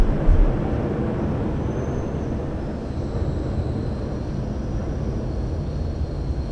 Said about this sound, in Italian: Ringraziamo l'aereo per farmi casino.